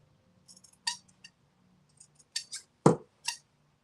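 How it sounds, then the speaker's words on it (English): Dry, ungreased fabric scissors chop at the edge of fabric pages for a handmade fall fabric journal, giving a scattered series of short, crisp snips and clicks, with one louder cut near the end, heard close up with no talking. "I'm going to come in with my scissor and purposefully like chop off and cut at some of this edge"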